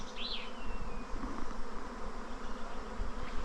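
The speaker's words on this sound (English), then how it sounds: "bees are swarming" Honeybees swarming outdoors produce a dense, steady buzzing that fills the whole clip, close and continuous. A single bee whines briefly past near the start.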